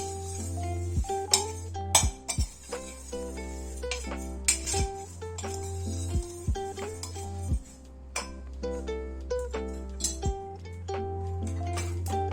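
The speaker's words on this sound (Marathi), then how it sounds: "हे सर्व साहित्य मिक्स करून घेऊया" A spoon stirs Mangalorean pohe ingredients together in a bowl, striking the rim in a quick run of bright, ringing clinks and taps that come in uneven bursts.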